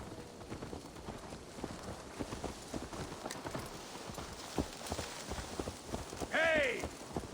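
Horse hooves clop in a steady trotting rhythm on hard ground in the video game Assassin's Creed Valhalla, close and prominent, ending with a short whinny near the finish; no one talks.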